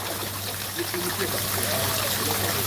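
Water rushes steadily down a waterfall at Cocoa Beach, Florida, making a continuous close hiss and trickle throughout, with faint voices in the background.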